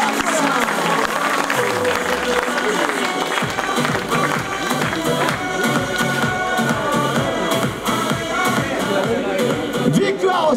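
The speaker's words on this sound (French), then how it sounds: "beaucoup de et les applaudissements du public" Spectators applaud at a podium ceremony for an off-road side-by-side (SSV) race, giving a steady wash of clapping mixed with crowd murmur and loudspeaker sound. The applause runs unbroken through the whole stretch.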